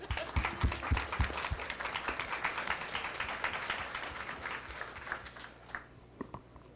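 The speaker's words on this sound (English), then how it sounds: "maybe we could have a round of applause for this." A conference audience at a game developers' gathering breaks into a sustained round of applause, dense clapping filling the room at steady loudness before thinning out toward the end.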